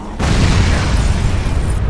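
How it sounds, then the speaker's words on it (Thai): Fuse bomb blast in Dead Rising 3, a sudden loud deep boom after a short quiet moment, followed by a sustained rumbling roar that fades slightly near the end. "ถอยมาดูห่างๆครับนี่ผลงานการระเบิดของผม"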